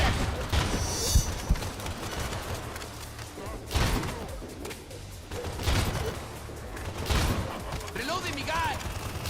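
Gunfire in a video game comes in a few heavy bursts spread across the stretch, loud booming shots that rise above background game noise, with a voice talking over parts of it.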